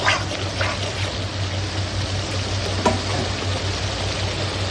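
Fish masala sizzles and fries in a hot pan with a steady crackling hiss, loud and close, with faint stirring sounds and no talk.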